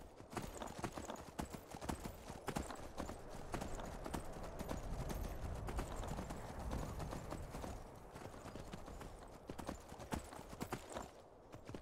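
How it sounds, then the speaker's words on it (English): Horse hooves gallop in the video game Skyrim, a fast steady clip-clop rhythm sounding throughout at moderate level. "Ride a horse, Alec."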